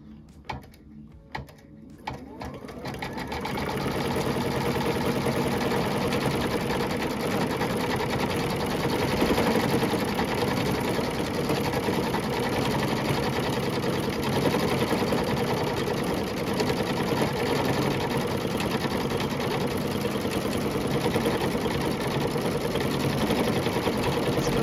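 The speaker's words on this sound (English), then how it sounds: "I'm just going to let it finish its quilting" An embroidery sewing machine stitches quilting on a lace zip bag in the hoop, a steady, rapid mechanical chatter that starts after a few seconds and runs continuously at an even level, with no talking.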